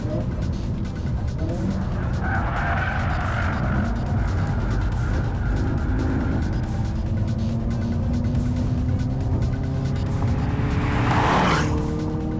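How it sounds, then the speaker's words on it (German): A Hyundai Kona N on a race track, engine roaring under sustained load before braking hard from nearly 200 km/h with tire squeal, loud and continuous beneath a talking voice. "Auf der Gegengeraden rührt der Kona mit Vollgas Richtung letzter Kurve. Bei knapp 200 km/h geht's in die Eisen."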